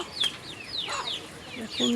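Several chickens on a village homestead cluck and chirp in quick, close, overlapping calls.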